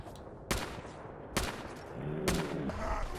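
Three separate sharp gunshots in a video game, about a second apart, each a sudden loud crack over quiet background noise.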